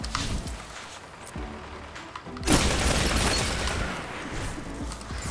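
A grenade explosion in the video game Destiny 2 lands as a sudden loud burst midway, its crackling blast rumbling and tailing off over several seconds after a stretch of gunfire and game noise.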